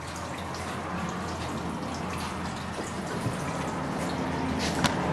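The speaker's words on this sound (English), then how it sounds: "Do another rinse off, get rid of the buffer." Water runs and trickles steadily over an analyser probe as it is rinsed, a soft continuous splash with a small drip near the end and no voices.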